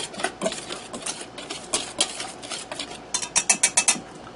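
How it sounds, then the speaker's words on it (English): A spoon scrapes and clinks against the metal pot of a pressure cooker while stirring pepper steak ingredients, irregular at first, then a quick run of sharp, close taps toward the end. "now let me get in there and stir that up."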